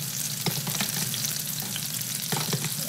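Garlic, chicken base and Italian seasoning cooking in butter in a pan, a close, steady sizzle with a few stirring clicks, no voices over it.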